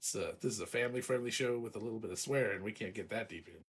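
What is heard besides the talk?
No everyday noises stand out.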